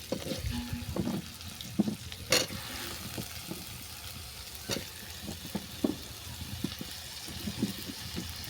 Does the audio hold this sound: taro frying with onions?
yes